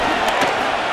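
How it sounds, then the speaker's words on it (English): Stadium crowd in Madden NFL 25, Bears versus 49ers, on their feet before a big third-and-7 play, a dense, continuous roar with a couple of brief louder swells. "the crowd on their feet"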